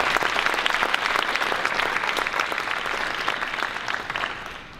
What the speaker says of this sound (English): Let's give them a nice round of applause, please.